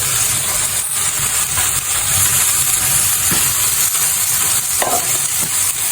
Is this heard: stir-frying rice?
yes